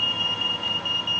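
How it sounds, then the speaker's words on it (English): Smoke detector alarm sounding during a domestic sprinkler fire test in a house with a severe fire, a steady continuous high-pitched electronic tone held throughout over low background noise. "Unfortunately, the smoke detector was operated by the severe fire in number 7."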